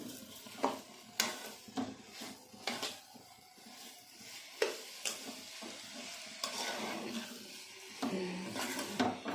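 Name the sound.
stirring and frying grated carrot with sugar for halwa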